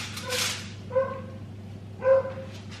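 A dog barks twice, about a second apart, moderately loud at a slight distance in a home kitchen, over a steady low hum.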